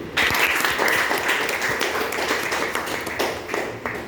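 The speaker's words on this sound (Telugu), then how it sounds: "వారికి ఒకసారి గ్రేట్ క్లాప్స్ అండి." Applause at a gathering, a steady, fairly close burst of many hands clapping that holds for several seconds and thins slightly toward the end.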